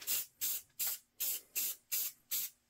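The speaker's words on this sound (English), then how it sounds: "you can actually just rotate it like this and then spray from about here" Spray paint is applied to a Phantom mask in seven short, evenly spaced hissing bursts, each with a sharp onset and a quick fade, close and fairly loud with near silence between them.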